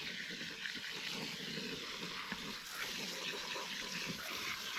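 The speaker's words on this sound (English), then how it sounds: "it's just taking so much water. There we go, it's starting to run out the bottom now." Water pours steadily into the soil of a potted Boston fern being repotted, a continuous splashing gush with small irregular drips and no talking.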